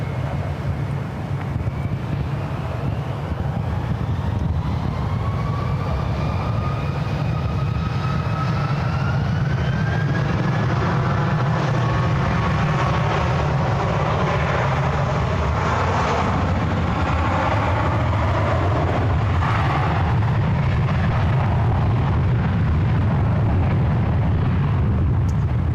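Airbus A320neo taking off from runway 1 right at SFO, a steady, heavy jet roar with a rising whine, carried on strong wind noise that buffets the microphone throughout.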